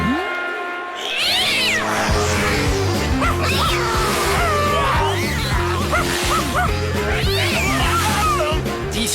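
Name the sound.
dog barking in animated cartoon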